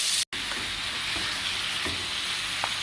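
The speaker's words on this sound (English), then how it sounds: "you really just want to move the chicken around in this butter as though you would if you were stir frying" Steady crackling sizzle of chicken frying in butter in a hot pan, with a few soft scraping stirs, continuous and close, no voices.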